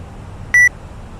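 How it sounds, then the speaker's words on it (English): Single short electronic beep from a flight simulator cockpit in an Airbus A320, a clean tonal blip lasting a fraction of a second against quiet background hiss, with no talking. "Now the beeping's back."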